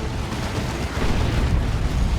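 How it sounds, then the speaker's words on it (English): Heavy rumbling blasts fill a Dawn of War 2 battle between Space Marines and Orks, a dense, loud burst of explosive gunfire noise with no voices over it. "Shotgun blast."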